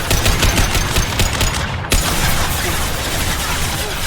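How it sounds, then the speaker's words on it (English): A steady, dense barrage of impact-shot gunfire from the Mass Effect 2 video game rattles on without pause, loud and close, with one brief sharp dip midway. "Firing an impact shot."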